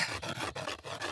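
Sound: rubbing two sticks together to make fire, cartoon

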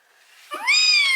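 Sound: cat meowing from children's sound book

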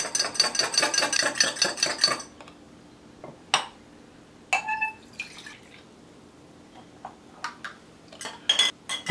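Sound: stirring pink lemonade in a glass

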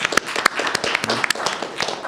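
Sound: audience round of applause

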